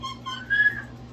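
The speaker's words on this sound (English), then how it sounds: "You hear him whistle?" A pet animal attempts a whistle: one brief, faint, thin tone that rises and then fades, heard alone against a quiet background.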